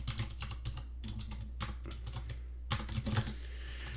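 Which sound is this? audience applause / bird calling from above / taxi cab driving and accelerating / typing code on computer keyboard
typing code on computer keyboard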